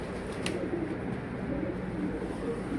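Soft, low cooing of a runaway pigeon caught on the street, against a steady background hum, with one brief higher chirp early on.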